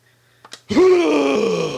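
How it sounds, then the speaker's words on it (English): Coin-entry effect from the Street Fighter: The Movie arcade video game: two quick clicks, then a loud, drawn-out digitized groaning voice that holds and fades slightly to the end. "I hope you're enjoying that coin entry sound"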